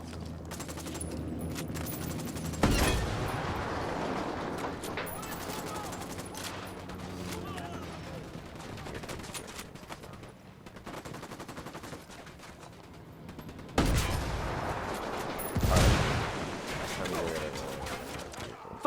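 Gunfire in the video game Ghost Recon Wildlands: sustained bursts of automatic fire and shots over a busy battle bed, with loud sharp blasts near 3, 14 and 16 seconds, and someone talking at times.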